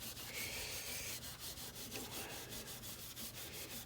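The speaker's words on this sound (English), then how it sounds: "now I'm just cleaning off any residue before I stain the neck" A steady, soft rubbing scrape as residue is cleaned off an Antoria Edmond archtop guitar neck and fretboard, repeating in even back-and-forth strokes, close and quiet with no voices.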